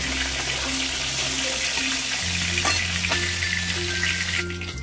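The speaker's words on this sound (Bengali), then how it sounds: "দেখো আমি প্রথমে লেগ পিসগুলোকে দিয়ে দিয়েছিলাম, এবার ফ্রাই হয়ে গেছে" Chicken leg pieces frying in oil for a white shahi korma make a steady, loud, close sizzle with a low droning hum underneath and occasional stirring clinks.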